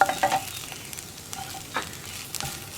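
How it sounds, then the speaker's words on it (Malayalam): Grated coconut stirred into drumstick flowers frying in a pan for an egg thoran, giving a soft, steady sizzle with light scraping stirs, faint and close, with no talking. "തേങ്ങ ചേർത്തിട്ട് വീണ്ടും ഇളക്കി മിക്സ് ചെയ്യുക."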